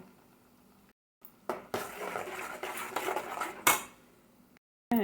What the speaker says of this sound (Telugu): గోంగూర వేసుకోవాలి ఈ తాలింపు పెట్టిన